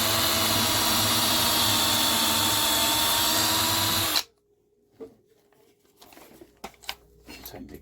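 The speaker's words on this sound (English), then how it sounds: "let's take my drill on." A loud electric drill runs steadily for about four seconds, then stops abruptly, followed by quiet with a few small clicks and knocks.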